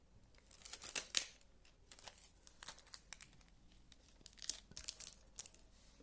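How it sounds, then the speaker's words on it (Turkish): Tape is torn and pressed down to fix macrame cords to a tabletop, giving quiet sharp rips and crinkles in short irregular bursts with soft pauses between them, close by and faint. "Ben video çektiğim için masamın üzerinde şöyle bantlayacağım."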